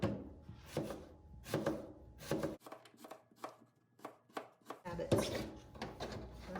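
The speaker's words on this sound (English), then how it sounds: "So I'm just cutting slices." A knife slices through apples on a flat cutting surface, landing a close series of crisp, irregular cuts and taps with brief pauses between strokes.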